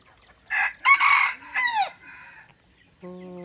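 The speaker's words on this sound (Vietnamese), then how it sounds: "Gà rừng rạc đây, tháng 6 rồi vẫn chưa rụng lông cộ, vẫn còn sung nha mọi người." A jungle fowl rooster, raised from a chick, crows loudly and close in a strained, rising call, followed by a few softer clucks and a brief steady tone at the end.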